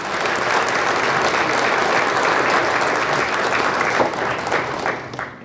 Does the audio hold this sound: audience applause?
yes